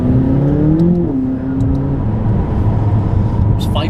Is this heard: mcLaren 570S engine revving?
yes